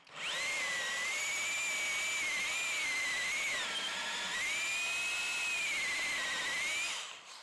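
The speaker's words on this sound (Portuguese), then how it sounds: "Aqui eu não vou fazer furo guia para ver como ela se sai" Cordless GENAI 21V rotary hammer boring straight in without a pilot hole, a loud sustained high whine that dips briefly midway and winds down at the end, with no talking.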